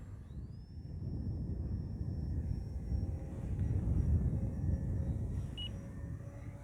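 An E-flite Valiant 1.3 m RC airplane flies at half throttle, its motor a steady, thin high-pitched whine carried over a low outdoor rumble from moderate distance.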